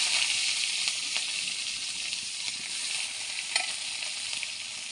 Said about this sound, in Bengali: এবার দিয়ে দিচ্ছি গোটা জিরে। এবার দিয়ে দিচ্ছি পেঁয়াজটা।